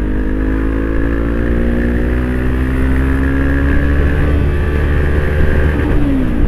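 A Honda CB500X motorcycle engine drones loud and close throughout while riding, a steady strained roar with engine pitch slowly rising and falling, plus steady wind rush.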